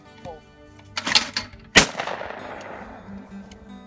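Shotgun blasts at outdoor skeet shooting: two sharp, loud reports about half a second apart, the second followed by a long fading echo, set against a steady tonal background.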